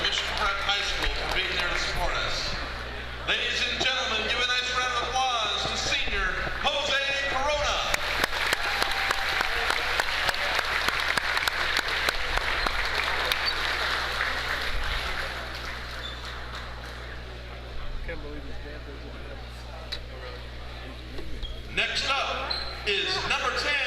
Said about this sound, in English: give a nice round of applause to senior